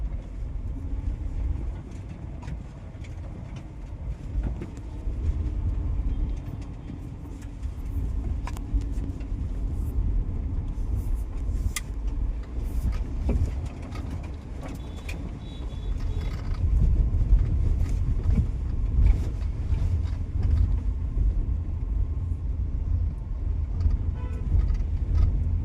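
A Hyundai driving on a rough road, with steering column noise, gives a continuous low rumble and scattered knocks and rattles over road bumps, getting louder toward the end.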